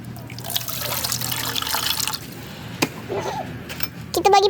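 Water poured in a short splashing stream into a container during home cooking, close and moderately loud, followed by a few drips and small knocks.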